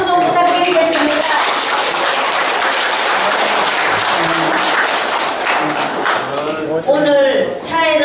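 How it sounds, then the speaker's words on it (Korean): An audience claps steadily for a photographer at the opening of a 100th-birthday photo exhibition in a gallery, a dense roar lasting throughout while a voice talks over it at the start and end. "김윤동훈 작가님께 큰 박수 좀 부탁드리겠습니다."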